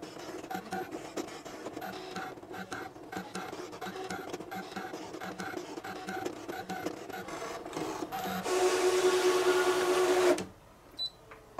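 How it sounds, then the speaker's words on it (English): A Scan N Cut machine cuts fabric applique pieces, giving busy mechanical clicks, whirs and carriage movements, then a louder steady motor drone with a whine that cuts off near the end. "It's going to cut everything out in 2 minutes or less."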